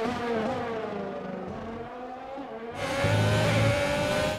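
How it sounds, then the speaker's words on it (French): Formula 1 race car engines in the F1 2020 video game, a high, droning engine whine that holds steady and then swells louder and brighter as the car accelerates, loud and continuous with no talk. "on a été légèrement déventé par la voiture de Verstappen"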